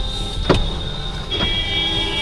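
Road traffic near Pune is heard from inside a car as a steady muffled engine and road rumble, with two brief swells of passing vehicles.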